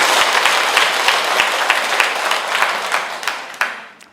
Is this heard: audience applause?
yes